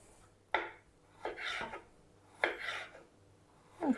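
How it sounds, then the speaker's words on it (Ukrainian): A knife slices bell pepper into thin strips on a board, giving a few quiet, spaced cuts and rasping strokes against a near-silent kitchen. "Тепер перчик теж соломкою нарізаємо."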